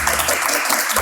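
A studio audience bursts into a short, dense round of clapping to cast a vote during a French television show.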